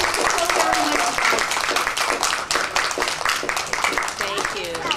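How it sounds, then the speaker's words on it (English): Children at Cesar Chavez Elementary School applaud at a library check presentation, a dense, lively burst of clapping with cheering and excited voices mixed through it. "So give yourselves a big round of applause."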